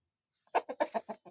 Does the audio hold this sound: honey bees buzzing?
no